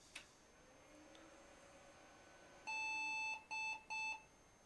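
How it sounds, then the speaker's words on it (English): A desktop computer sounds a BIOS error code at startup, one long beep followed by two short beeps, clear and alone over a faint hum of fans. "one long beep and two short beeps, which is the pause error"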